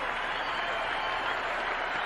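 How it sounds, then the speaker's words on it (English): Steady, dense applause and cheering from a large tennis crowd at the 1991 Key Biscayne final, a continuous wash of clapping filling the stadium without a break. "And listen to the crowd."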